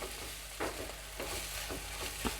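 Spoon stirring egg curry in a hot pan, soft scraping strokes at a steady pace over a constant low sizzle, close by with no voices.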